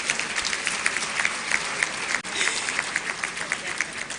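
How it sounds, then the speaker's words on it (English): Steady audience applause at a university congregation ceremony in a large hall, a broad wash of many hands with crisp individual claps popping through, one brief dip midway. "Please applaud Mr. Andrew Kwesi Boateng."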